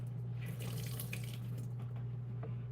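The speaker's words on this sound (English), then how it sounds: "Did my music stop, or did this water get loud?" Water runs loudly and steadily from a kitchen tap during meat prep, a continuous close rushing stream with a low hum beneath it and no talking.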